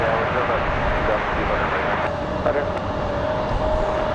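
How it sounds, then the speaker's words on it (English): A Delta Boeing 737-800 jet arriving at Raleigh Durham airport from Minneapolis gives a steady, loud broadband engine roar throughout, with a faint tonal whine running under it. "It's going to be a 737-800."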